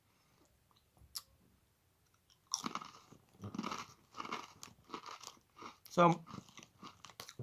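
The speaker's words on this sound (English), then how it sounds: "with that crisp, when I bit into it, it split in two" Real McCoys crisps, flat-bottomed rounded potato crisps, bitten and crunched with a series of loud close crunches and chewing bursts and one sharp crack, alongside brief talk.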